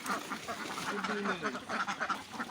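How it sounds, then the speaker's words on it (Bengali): Ducks on a duck farm quack excitedly at morning feeding time, a dense, continuous chorus of overlapping calls close by, with a person's voice faintly mixed in. "সকাল সকাল হাঁস ছাড়ার পরে হাঁস খাওয়ার জন্য কিন্তু পাগল হয়ে যায়"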